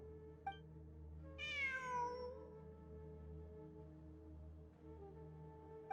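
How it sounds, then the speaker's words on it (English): A cat meows once in the video game Genshin Impact, a clear rising-then-falling call standing out over a steady background of game music and ambience. "It really is a cat."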